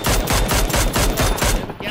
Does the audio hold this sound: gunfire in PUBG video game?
yes